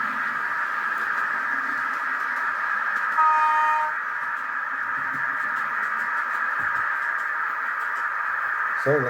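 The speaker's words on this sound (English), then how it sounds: "the central train just keeps going round and round all on its own" A model railway train circles a layout with a steady mid-level running hum, a brief tooting horn partway through and a few small clicks near the end.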